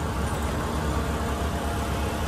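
A car engine labours steadily as the vehicle climbs the Dive Ghat road, a continuous low rumble with broadband road noise, loud and close throughout, no voices.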